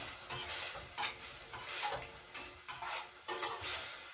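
Chopped bitter gourd tumbling into a hot pan for a bitter gourd and moringa leaf thoran, with a steady sizzle and several scraping stirs of a utensil against metal, close and fairly quiet, no talking.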